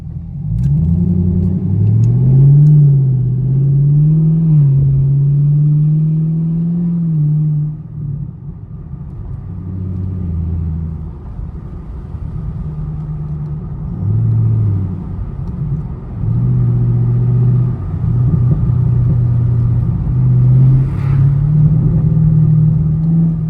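A 500HP Camaro SS with straight pipes rumbles loudly up close, its deep exhaust burble swelling and dipping through several revs and settling back to idle, with no voices over it.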